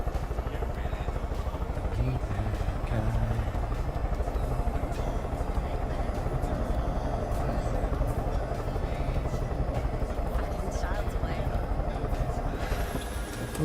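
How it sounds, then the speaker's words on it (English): A helicopter in a crafting video game whirs with a continuous rotor drone as it slides down a hill, steady and fairly loud from start to finish. "We'll just let the helicopter slide down the hill,"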